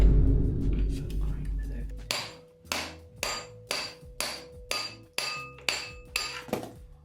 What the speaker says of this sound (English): even with a hit from a hammer, it isn't actually coming off